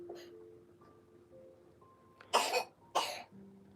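A man with a chesty cough lets out two harsh, close coughs in quick succession after a few quiet seconds, with no talking.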